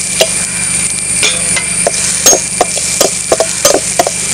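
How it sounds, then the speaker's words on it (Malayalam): Grated coconut dry-roasting in a pan without oil for a homemade tapioca biryani, heard as irregular light scraping and stirring taps against the pan, with no talk. "വെളിച്ചെണ്ണ ഇല്ലാതെ നമുക്ക് ഇതിലേക്ക് ഇത് മൂപ്പിച്ചെടുക്കാം."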